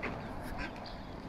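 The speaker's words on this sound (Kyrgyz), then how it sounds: "Кадимки жапайы өрдөктөр." Wild ducks quack close by, walking about with their ducklings; a couple of short, raspy quacks stand out over a steady outdoor hum, with no talk.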